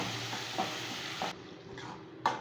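Roughly chopped tomatoes and curry leaves sautéing in a pot for kurma, a steady sizzle with occasional scraping stirs, close and moderately quiet.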